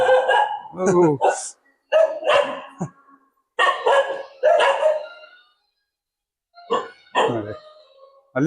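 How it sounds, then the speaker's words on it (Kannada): A dog barks in several short bursts with pauses between them on a dairy farm that keeps HF cows, close and fairly loud, with people talking around it. "ಒಂದು ನಾಯಿ ಉಂಟು ಇದು ನಾಯಿ ತುಂಬಾ ಉಂಟು ಇಲ್ಲಿ"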